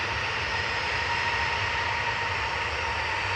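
A Ryanair Boeing 737-800 departing Manchester Airport for Milan gives a steady, even jet engine roar from a distance, a constant broadband rush with no breaks.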